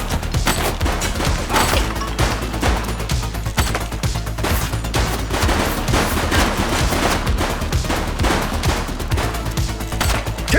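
Dense, continuous gunfire in The Precinct, a police video game set in Aveno City, with rapid bursts and overlapping shots crashing loud and close for the whole stretch.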